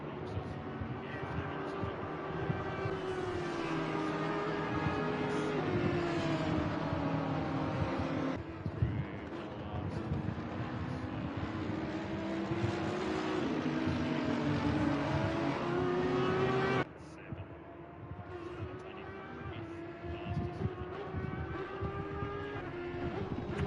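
Race cars roar around the Kyalami circuit in a racing video game, a constant, fairly quiet engine drone that shifts pitch with gear changes and sits under people talking.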